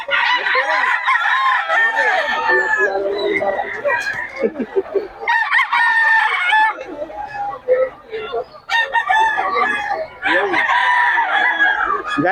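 Chickens and roosters at a market in Bocaue, with loud, near crowing and clucking overlapping continuously from many birds while people talk among them.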